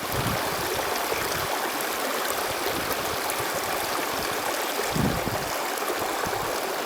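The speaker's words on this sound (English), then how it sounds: "listen to the music of the creek" A mountain creek flows steadily with a constant broad rushing and babbling of water, close and even, with no voices present.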